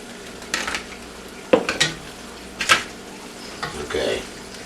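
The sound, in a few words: burgers put back into a hot frying pan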